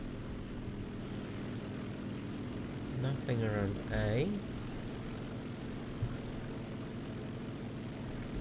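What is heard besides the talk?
propeller plane flying in the video game War Thunder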